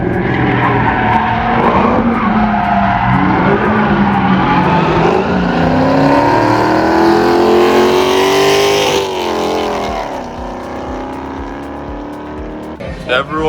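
A car is driven hard and fast, and its engine revs loudly through rising and falling pitch sweeps, mixed with tire squeal and skidding, before it settles into a quieter run near the end.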